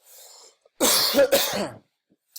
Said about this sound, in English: I'm going to leave these coughs in so you understand.